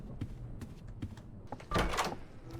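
An in-game door in the Roblox horror game DOORS opens with a loud thunk and swelling creak midway, set against steady game background noise and a few softer knocks.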